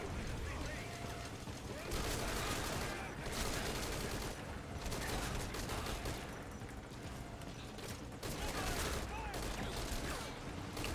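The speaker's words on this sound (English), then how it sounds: "these guys are shooting at me" Gunfire in the stealth video game Metal Gear Solid V: Ground Zeroes plays on PC, with dense, continuous automatic fire and mechanical rattling sustained throughout, loud and close with no clear breaks.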